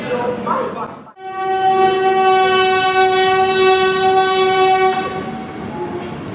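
A passenger train at a railway station platform sounds a loud, sustained horn for several seconds close by, above the low rumble of trains and station noise.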